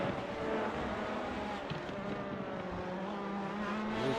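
LMP2 and GTE race cars in iRacing at Indianapolis Motor Speedway: a continuous engine drone with shifting tonal whine, several engines blending at steady loudness without pause, and no one talking.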